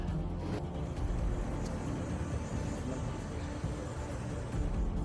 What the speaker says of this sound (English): the faint sound of distant traffic contrasting the somber atmosphere